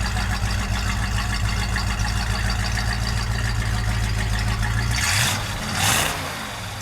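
A Ford muscle car engine idles with a loud, lumpy rumble, then blips through two sharp revs near the end that rise and fall back, with no voices.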